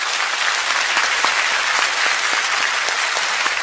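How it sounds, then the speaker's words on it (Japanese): A concert audience at a show claps warmly for the musicians, dense even applause sustained throughout, loud and close with no voices on top. "ミュージシャンの皆さんに温かい拍手を送りましょうか"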